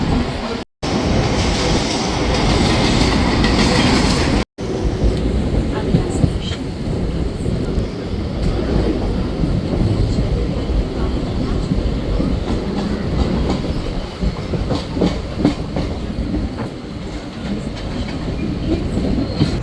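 A train moving past a string of stations rattles along steadily with rhythmic clicking of wheels on rail joints, loud and close from on board, the steady rumble broken by two brief dropouts near the start.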